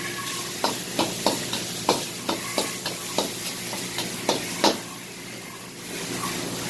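Ginger, garlic and hot chili stir-fried in a wok after jumbo shrimp, with a loud continuous sizzle and a quick, regular run of metallic scraping tosses about twice a second, then a steadier hiss to finish.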